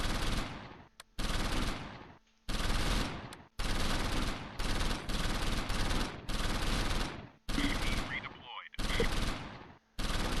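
Gunfire in the WWII strategy game Close Combat V bursts out in repeated loud volleys and machine-gun rattles, cut by brief silent gaps, with no talking over it.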